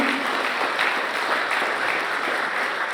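A crowd at a campaign launch event for an African Union Commission chairmanship bid applauds, sustained dense clapping throughout at an even, loud level.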